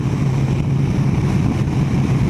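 A Kawasaki ZZR 1200 hyperbike engine holding a steady low drone while riding at road speed, largely buried under a constant loud rush of wind, with no voices.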